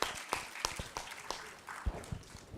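An audience gives scattered, fairly quiet applause after a speech at a service club district gathering. Individual claps stand out irregularly, with no voices over them.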